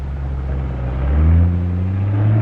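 A truck engine rumbles steadily at close range in a 1950s toy-shipping yard, its loud low drone rising slightly in pitch midway as it accelerates.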